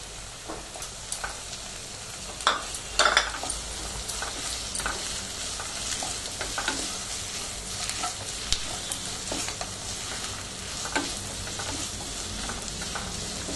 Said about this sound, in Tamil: இஞ்சி பூண்டு பேஸ்ட் வந்து நல்லா ஃப்ரை பண்ணணும்